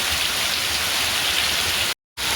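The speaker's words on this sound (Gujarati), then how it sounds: "જોઈ શકો છો તમે વરસાદ બહુ જ વધારે આવવા લાગ્યો છે" Heavy rain pours down outdoors in Banaskantha, a dense, steady broadband hiss of drops on surfaces, loud and close, with a brief moment of complete silence near the end before the downpour resumes.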